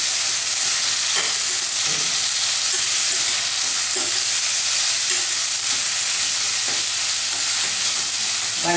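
Chopped capsicum and tomato sautéing in a pan, a continuous bright sizzle with occasional soft scraping stirs, steady and close with no talk.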